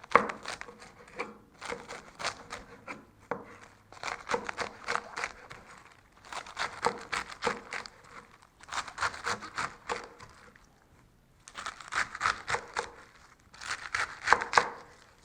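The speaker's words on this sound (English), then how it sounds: "I'm going to cut across the head of the lettuce to make rectangle or square pieces of chopped lettuce" Knife chopping across a head of lettuce on a board, quick close bursts of crisp crunchy cuts in several runs separated by short pauses, with no talk.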